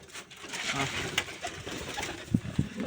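Pigeons being fed, some of them recovering from colds, cooing softly nearby in a few low murmured bursts over faint background noise, with a couple of louder thumps toward the end.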